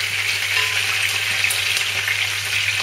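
Pork cheeks sear and brown in a pan, giving a loud, close, steady sizzling crackle with a low background hum and no voices.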